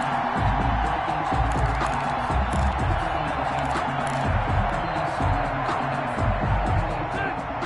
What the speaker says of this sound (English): And this crowd loves it as their guys hold on the opening drive.